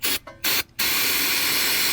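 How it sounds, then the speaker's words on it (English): Aerosol cleaner sprayed into a car sensor and its connector to clear corrosion: two short bursts, then one long sustained close hiss. "Spray the inside of the sensor and the connector all over the place."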